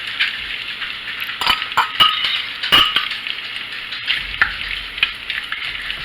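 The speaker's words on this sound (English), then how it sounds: "I'm going to put the tofu in here to brown a little bit" Tofu browning in a frying pan over medium-high heat sizzles steadily, broken by sharp clinks and scrapes of a utensil stirring against the pan, with no talking.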